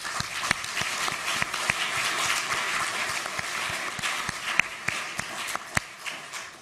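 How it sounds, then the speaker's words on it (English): A panel-discussion audience claps steadily for the organisers, many hands at moderate distance, with sharper individual claps punctuating the continuous applause. "a big clap."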